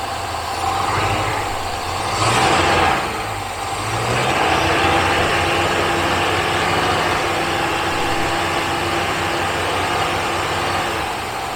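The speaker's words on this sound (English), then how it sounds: "Gonna give it a couple revs, see if that helps get any air bubbles out." A Rover V8 engine, back on the road after sitting twelve years and running during a coolant flush, idles steadily up close with a brief rev swell early on before settling back to a constant, even idle.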